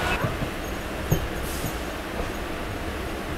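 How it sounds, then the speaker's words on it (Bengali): A train pulling out of Sealdah railway station, a steady rolling rumble of wheels and carriages with faint rail clicks, continuous and moderately close throughout. "ছেড়ে দিল আমাদের ট্রেন শিয়ালদা রেলওয়ে স্টেশন থেকে"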